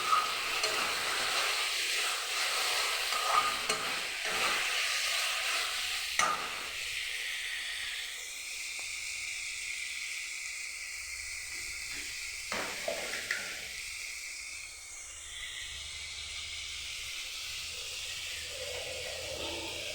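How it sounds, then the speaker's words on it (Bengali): Spice paste and tomatoes fry in soybean oil, a continuous soft sizzling hiss with occasional stirring clicks, close but fairly quiet, with no voices. "কটা টমেটো দিয়ে দিব, দিয়ে এখন মশলাটাকে ভেজে নেব।"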